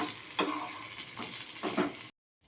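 Pirandai (veldt grape) sautéing in a hot pan, a steady close sizzle with a few louder scraping stirs of a spoon, no talking, ending abruptly in silence.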